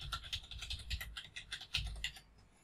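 A password being typed on a computer keyboard, a quick run of close, crisp key clicks in an uneven rhythm that stops just before the end.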